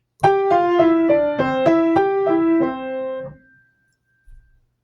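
A solo piano plays the short closing phrase of an Allegretto, repeated chords softening, swelling, then fading to quiet before a faint final low note.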